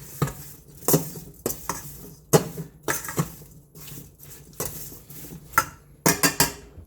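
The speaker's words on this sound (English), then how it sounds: "I'm going to mix this up really quick." A spoon stirring a spicy three-meat soup in a pot, irregular clanks and scrapes of utensil against metal sounding at close range, with short pauses between strokes and a brisk cluster of knocks toward the end.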